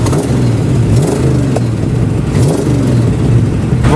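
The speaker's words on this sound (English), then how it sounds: "Ignition on, and there's a starter button just here." An AK427 Cobra replica kit car's engine runs and revs loudly up close after the starter button is pressed, with repeated rising surges and a clattery mechanical edge.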